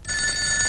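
A telephone bell rings steadily and loudly for under a second in a domestic comedy scene, a continuous bright ringing tone with no talk over it.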